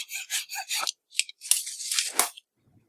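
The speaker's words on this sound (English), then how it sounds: "I believe I'm coming to an end of the filing, finally." Hand filing of a perf board, with several close, rough rasping strokes in quick bursts and short pauses between them, no voices.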